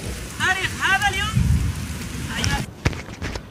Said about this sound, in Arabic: ما عمري لما وقع مع المطر ثلج برد